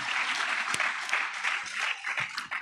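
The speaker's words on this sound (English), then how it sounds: "let's just keep on clapping" An audience claps steadily at a graduation celebration, with a wash of many hands close and continuous and a few sharper individual claps standing out.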